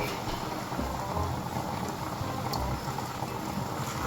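A pot of food bubbles and simmers steadily, a dense close crackle of small pops and gurgles with no talking.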